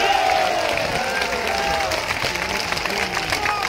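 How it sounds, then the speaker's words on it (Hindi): Crowd at an election rally applauding steadily, a broad wash of clapping with a faint tonal whine and murmur underneath, moderately loud throughout. "जोर करताली देवाई अनुरोध करी"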